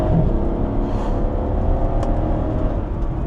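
Mercedes SL63 AMG engine pulling hard in second gear, a loud steady roar with rumbling low drone and road noise heard from inside the car, no talking.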